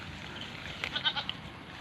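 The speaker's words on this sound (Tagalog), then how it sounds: "Dito pala yung mga kambing." Goats on a farm with citrus trees let out a short, faint bleat or two, heard at a distance over quiet outdoor background noise.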